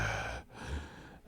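A voice imitates heavy breathing in a prank phone call, with two long, loud, breathy exhalations separated by a brief pause, close up and with no other sound.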